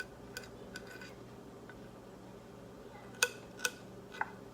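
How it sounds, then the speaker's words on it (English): Aloe is mashed in a bowl for homemade hand sanitizer, giving a few faint, sharp taps and clinks of a utensil against the dish, spaced irregularly in a quiet room. "All right, so I'm just going to mash it. Just like this."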